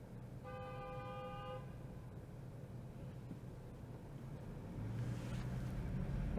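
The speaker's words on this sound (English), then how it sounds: "There's a BMW caught in the intersection there, getting honked at." A car horn blares in a single sustained honk of about a second at a downtown Toronto intersection, aimed at a BMW stuck in the crossing, over the steady rumble of city traffic.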